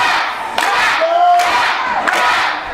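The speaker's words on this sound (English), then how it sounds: "Crowd just playing with Goodman, demanding him to tap" A wrestling crowd at a Halloween-themed independent show chants and shouts in unison, urging a wrestler caught in a judo-style submission hold to tap out, loud and sustained with rising cheers throughout.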